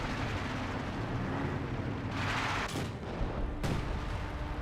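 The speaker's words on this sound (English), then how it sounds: "Artillery just in the general region right there. Mortar's hitting the leg." Mortar and artillery rounds boom in Company of Heroes 2, a few distinct blasts and rumbling impacts over a continuous battlefield drone, with no talking.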